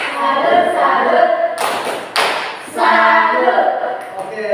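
A classroom of children claps out a tepuk salut chant, with rhythmic bursts of hand claps and thuds over voices chanting along, loud and close.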